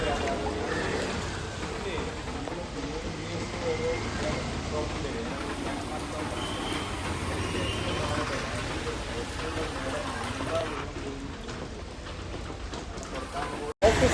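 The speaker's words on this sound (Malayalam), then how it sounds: "മഴ നല്ല പൂരി മഴ" Heavy downpour in Kerala falls steadily around a person under an umbrella, a dense continuous hiss of rain on surfaces lasting throughout, with talking mixed in and a sharp break at the very end.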